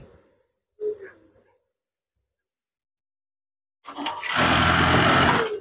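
Sewing machine stitching fabric for swag curtains: a couple of short, faint motor blips, a pause of silence, then a loud, steady whirring run of rapid stitching close by.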